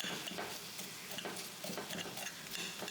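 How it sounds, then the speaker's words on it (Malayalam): Chicken and vegetable filling for a cheesy chicken wrap being stirred in a pan, with a soft steady sizzle and repeated scraping strokes of the spoon, fairly quiet and without talk. "ചിക്കനുമായിട്ട് മിക്സ് ചെയ്ത് നന്നായിട്ടൊന്ന് ഇളക്കിയെടുക്കുക"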